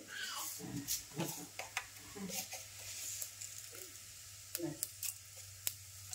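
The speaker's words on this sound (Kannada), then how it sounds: "ಈಗ ಜೀರಿಗೆ ಸಾಸಿವೆ ಚಟ್ಪಟ ಅಂತ ಸಿಡಿಲಿಕತ್ತಾವ ನೋಡ್ರಿ" Cumin and mustard seeds crackling and popping in hot oil, a faint scatter of sharp irregular pops over a soft sizzle, close by and alone.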